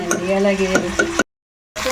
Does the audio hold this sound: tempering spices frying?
yes